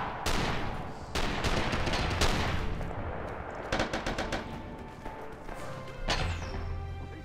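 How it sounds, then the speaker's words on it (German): Mortar shells and gunfire explode in the Saipan battle of the video game Rising Storm, a dense run of sharp blasts and crackling shots with several heavy booms standing out, loud and close. "Ich kriege schon die ersten Granaten raus aus dem Haus. Das sind ja die Mörser-Granaten"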